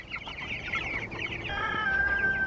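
Chickens out in the sun cluck and chatter in soft, overlapping calls with one longer drawn-out note near the end, moderately close and fairly quiet, with no talk.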